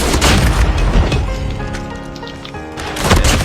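A bomb explosion in a shooter video game: a loud, deep boom rolls out and fades into a sustained rumble, then a second heavy blast surges near the end, with no talking.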